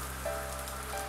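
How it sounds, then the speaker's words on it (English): Steady rain falls outside a bungalow terrace in Popco Colony, Versova, a soft continuous hiss of drops on surfaces with a faint tonal hum underneath, no voices present. "but it's raining now."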